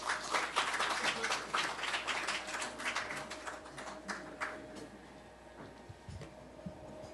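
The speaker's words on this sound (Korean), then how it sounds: "큰 박수로 모시도록" Audience applause at a Korean breakfast forum, welcoming a speaker onto the stage: a dense patter of many clapping hands that thins gradually and fades toward the end, heard from within the room.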